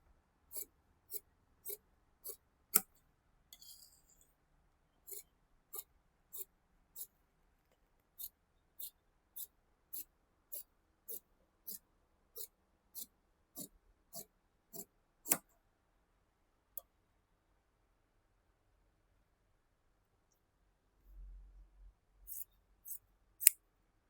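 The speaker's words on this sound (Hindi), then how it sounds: "अब हम काट लेंगे इसको फुल कटिंग।" Scissors snip through pant fabric during full cutting of a big-size pant, with a regular run of sharp, crisp clicks in two bursts, a longer gap between them, and a few soft rustles near the end.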